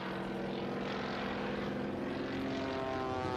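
A Waco propeller airplane flies low over a runway, its engine and propeller drone loud and steady throughout the short stretch, with no voices.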